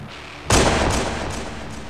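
A single sharp gunshot in a Halo Reach machinima cracks out loudly after a quiet lead-in and then rolls away in a long echoing boom with fading reverberations.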